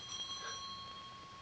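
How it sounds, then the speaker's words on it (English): A house doorbell rings in a 1940 film, a single sustained metallic ring with a bright tone that fades gradually, heard alone without talk. "Answer the bell."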